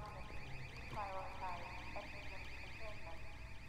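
Steady electronic beeping from the video game Half-Life 2 repeats in a fast, even pulse throughout, with a voice speaking briefly over it partway through.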